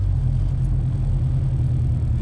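Honda Civic EJ2 with a fresh-headed B16 engine and LS transmission, a steady loud low rumble of the engine from inside the car while driving, constant and unbroken.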